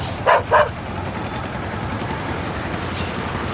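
Stray dogs at an ABC centre give two quick, sharp barks in close succession at the very start, followed by quieter low background noise.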